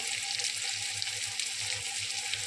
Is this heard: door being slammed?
no